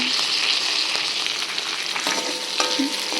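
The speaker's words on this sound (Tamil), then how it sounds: "இந்த வெங்காயம் தக்காளி கொஞ்சம் நல்லா வதங்கணும்" Onion, tomato and curry leaves sauté in oil for a Hogenakkal-style fish curry, sizzling steadily and close while a utensil scrapes and taps the pan now and then.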